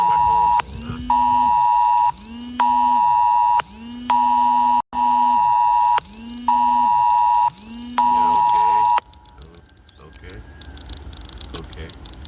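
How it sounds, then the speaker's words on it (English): Phone emergency alert tone during a tsunami warning on Hawaii's North Shore: a loud, piercing two-part electronic tone pulses seven times in a steady rhythm, then gives way to rustling and background noise. "Now my phone's going off."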